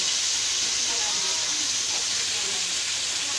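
A whole crab sizzles as it fries in a pan: a loud, steady, close hiss of spitting oil that runs without a break.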